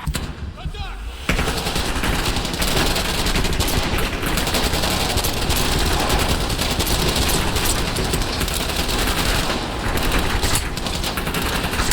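Heavy machine gun fire rattles through a Call of Duty Black Ops Cold War cutscene. After a short quieter opening it becomes loud, dense and nearly unbroken for the rest of the clip.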